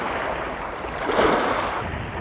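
Waves crash and wash against coastal rocks in a continuous roaring surge, loud and close, swelling briefly midway with a steady hiss of spray and wind.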